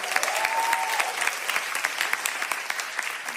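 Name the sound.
comedy show audience applause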